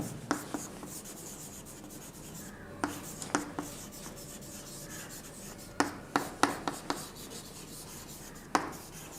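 Chalk or marker strokes on a classroom board, with bursts of short scratchy taps and rubbing spread irregularly over a quiet background and no speech.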